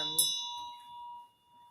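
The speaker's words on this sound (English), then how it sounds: "This is the bell for the queen, honouring her queendom." A single bell stroke rung in ceremony for a queen, a quiet, bright ding whose clear tone lingers and fades over the following second.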